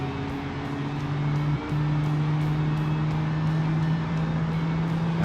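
A car engine held at full throttle in a BeamNG driving game, a 1990 budget family car, gives a steady loud droning tone with a brief dip midway, then continues evenly throughout.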